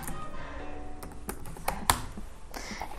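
Keys clatter steadily on a computer keyboard during CSS coding, a close run of quick, uneven taps with a few sharper keystrokes and no talking.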